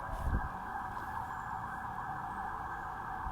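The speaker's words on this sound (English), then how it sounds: "Sirens in the background" A distant emergency siren wails steadily in the background near a temple in Bangkok, Thailand, a sustained high tone over low street rumble.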